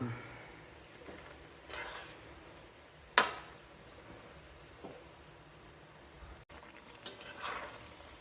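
Indian gooseberries (amla) fry in hot oil for a pickle, giving a steady soft sizzle with occasional sharp clinks of a stirring utensil against the pan, close and moderately loud.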